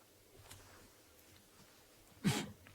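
A single short sneeze bursts out late against a quiet, faintly noisy background.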